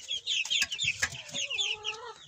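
Hens and a bare-necked rooster cluck in a garden, a busy run of short, overlapping clucks and a drawn-out cackling call, fairly close but soft.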